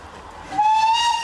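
A steam train whistle sounds as a single sustained, rising tone, loud and close, starting after a brief quiet moment and holding to the end.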